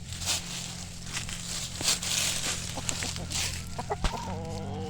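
A rooster clucks several times amid outdoor background noise, short throaty calls scattered across the moment.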